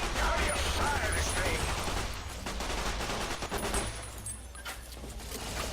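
Sustained weapon fire in the game Fallout: TTW, dense and loud throughout with rapid overlapping bursts, dipping slightly midway, with a voice briefly speaking over it.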